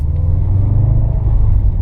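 A Subaru WRX with a Cobb Accessport installed accelerates, its engine a loud, deep rumble with a steady drone heard from close by.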